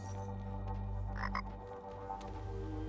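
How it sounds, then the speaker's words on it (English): A frog croaks in the video game Tower of Time, a fairly faint ribbiting call heard over steady game music and ambience, with no one speaking. "I heard a frog."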